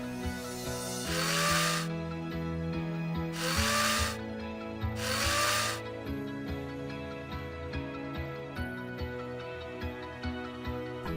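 A power driver fastens deck boards to joists in three loud whirring bursts, each lasting about a second. The motor pitch rises in each burst over a steady background hum.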